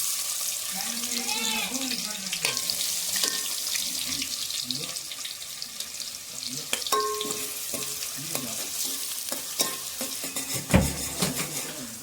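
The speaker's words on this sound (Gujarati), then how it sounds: "હવે ડાયરેક્ટ એને ડુંગળી નાખી દઈ" Chopped onions go into hot oil with cumin seeds for a Gujarati dish, giving a steady close sizzle and frying crackle with stirring and clinks, and a voice talks over it.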